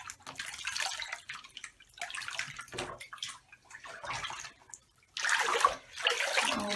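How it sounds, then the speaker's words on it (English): Water runs from a tap into a bath, splashing and gushing in uneven surges. A louder burst comes near the end, close and without talk. "Turn the water on and see if we do get some bubbles out of here."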